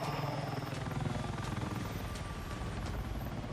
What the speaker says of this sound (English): It's a helicopter above me too.